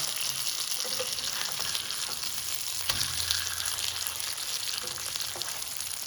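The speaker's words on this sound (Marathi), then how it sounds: "फक्त स्लो आणि मीडियम अशा दोन्ही ह्याच्यावर मॅनेज करत करत फिश फ्राय करायचा" Masala-coated surmai fish frying in a pan for a Goan recheado fish fry, producing a steady, loud, close hiss and crackle of oil that continues throughout with small pops.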